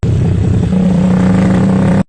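Loud, close engine drone from a motorcycle-based tricycle taxi on its way to a terminal, a steady low hum that holds unbroken for about two seconds with no talking.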